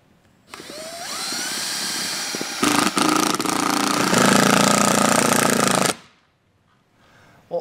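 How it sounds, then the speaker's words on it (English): A power drill drives self-tapping screws to mount an awning bracket to the arm of a Solera slide-out awning on a 2015 K-Z Durango RV, one loud sustained whine of about five seconds with a rising pitch at the start, then quiet. "we're gonna go ahead and mount our bracket here to our arm using our self-tapping"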